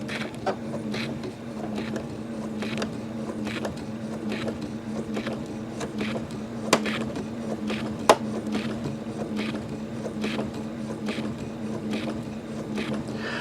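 A foot-pedal-operated sewing machine running steadily and quietly, a low continuous motor hum with a rapid rhythmic needle ticking throughout, plus two brief sharp knocks partway through; no talk.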